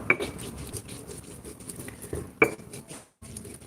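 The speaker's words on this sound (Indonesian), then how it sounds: "saya lebih suka mengulek atau menggilingnya seperti ini ya" Ginger and turmeric being ground on a stone mortar, scraping and grinding close up, with a couple of sharp clinks of stone on stone and a brief pause.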